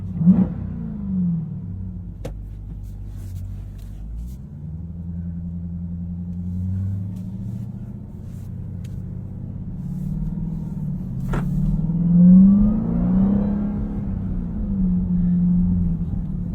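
The engine of a 2021 Dodge Durango Hellcat drones low and steady while driving, rising into a louder rev surge partway through. Faint clicks and cabin noise sit over the rumble.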